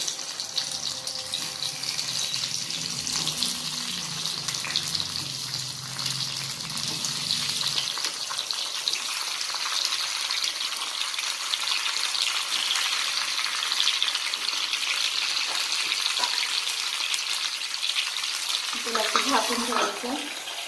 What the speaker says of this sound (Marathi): आता हे टमाटे भाजून घ्यायचे, तेलामध्ये छान दबून घ्यायचे